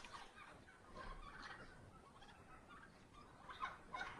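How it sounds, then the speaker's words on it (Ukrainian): Turkeys gobbling in a snowy village yard, several faint, scattered bursts of gobbling at moderate distance, with louder calls near the end. "О, індики біжать."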